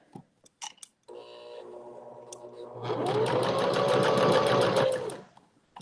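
A sewing machine stitching fabric for a lanyard starts after a few light clicks and handling sounds, then runs in a steady, close, whirring rattle for about three seconds before stopping.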